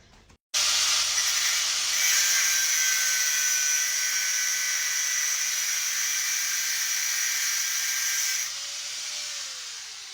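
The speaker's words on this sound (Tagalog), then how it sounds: "maingay kasi nag-welding si Papa" Welding work at home produces a loud, steady, hissing high-pitched whine with a faint tonal edge. It starts abruptly and runs unbroken for about eight seconds, then drops to a quieter level.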